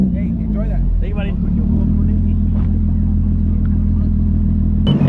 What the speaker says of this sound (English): now we have the GoPro hooked up in the back for maximum VR6 supercharger sounds.